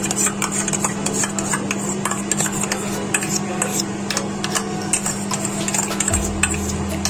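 Paneer curry with curd and tomato sauce being stirred and sautéed in a pan, with steady scraping and clinking of a spoon against metal over a constant low hum, close and continuous.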